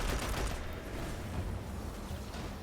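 Rapid solar auto rifle fire in Destiny during a Legendary Lost Sector run, a dense, continuous rattle of shots with booming impacts, loud and close with no talking.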